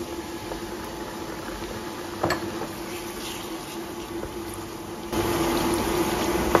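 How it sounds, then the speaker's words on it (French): Chicken pieces frying in hot oil with tomato paste for a Senegalese tchep, a steady soft sizzle and bubbling hiss with a few short crackles, rising slightly louder toward the end. "On va laisser frire encore 3, 4, 5 minutes."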